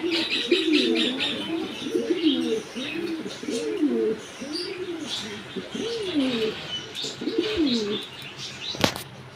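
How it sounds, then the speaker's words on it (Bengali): Several king pigeons coo repeatedly in low, rolling phrases, close by, with occasional chirps and a brief wing flap near the end. "এই হচ্ছে কিং কবুতর"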